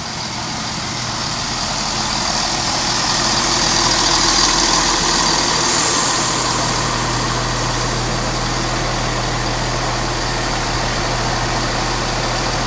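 Class 170 unit 17208 idles and rumbles at Needham Market Station on a service to Ipswich, a loud, steady low diesel drone with a constant hum that swells slightly and holds throughout.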